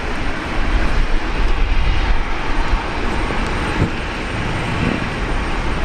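Philippine Airlines flight 222 takes off from runway 19 left at Brisbane Airport, its engines a loud, sustained broadband roar that holds steady throughout with no voices.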